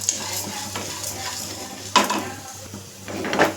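Whole spices such as cinnamon sticks, cardamom, cloves, black stone flower and marathi moggu dry roasting in a pan, with light stirring scrapes and clinks of metal against metal over a steady low hum, a sharper clatter midway.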